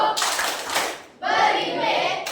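A school class performs the rhythmic 'tepuk wow' clapping chant, children's voices chanting together over brisk hand claps in two bursts separated by a short pause.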